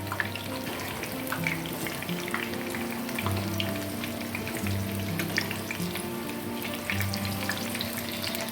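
Paneer-stuffed Malabar spinach leaf pakoras dipped in gram flour batter fry in hot oil with a steady, dense sizzle and bubbling, close and continuous, with faint low hum and occasional soft clinks.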